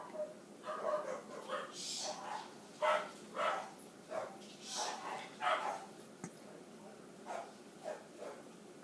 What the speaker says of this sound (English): All the dogs are barking because my uncle just came into the house.